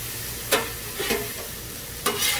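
Steak and butter frying on a Blackstone griddle, a steady hiss of sizzling broken by three sharp spatula scrapes and taps against the flat top, no voices.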